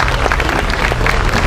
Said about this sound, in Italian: C'è un applauso al Presidente Legnini che ci ha consentito la sua presenza.